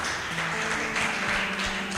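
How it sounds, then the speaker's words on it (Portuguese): A church congregation applauds in praise of Jesus during a Portuguese-language service, a steady wash of clapping with a faint low tone beneath. "Dê um aplauso a Jesus."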